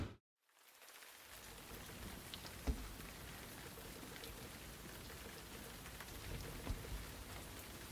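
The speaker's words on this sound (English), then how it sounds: "I can see it's raining." Constant rainfall hisses evenly throughout, with a couple of faint low thumps like distant thunder beneath the downpour.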